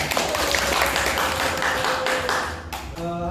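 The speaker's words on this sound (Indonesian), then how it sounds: "tepuk tangan untuk kita semua" Classroom applause from students during a micro-teaching lesson, a dense burst of clapping that fades out after a few seconds.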